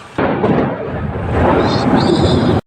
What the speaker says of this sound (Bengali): আমি গেটে দাঁড়িয়ে আছি আর যা বাজ পড়ছে রং করে আওয়াজ হচ্ছে